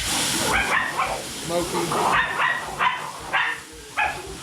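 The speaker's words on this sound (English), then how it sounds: "Dogs come running through." Dogs yip and bark in short bursts as they run through a kitchen where turkey gumbo broth is steaming, the barks mixed with a person talking nearby.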